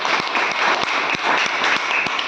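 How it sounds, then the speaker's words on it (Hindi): Hearty group applause for the leaders who shared their experiences at a gathering, a dense burst of many hands clapping together with sharp individual claps standing out. "उन सभी के लिए एक जोरदार ताली।"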